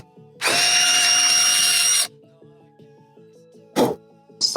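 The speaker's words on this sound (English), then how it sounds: "I'm going to drill these holes about 5/16." A power drill whirs loudly for about two seconds, drilling 5/16-inch holes for an oil catch can bracket on a 5.7L Hemi, then stops; faint mechanical clicks follow, with another short burst of drilling near the end.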